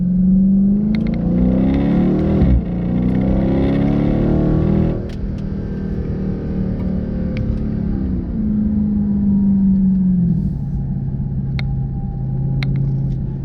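A car's engine pulls hard and revs up on the US23 highway in automatic mode, a loud steady rumble rising in pitch before easing into a cruise, with no talking over it.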